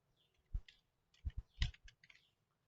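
Keys tapped on a computer keyboard while entering a formula in Excel, a few quiet clicks, one single then a short burst of four or five, close and soft in a near-silent room.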